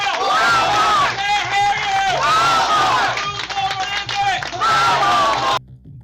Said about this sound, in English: You got to do a Walmart cheer.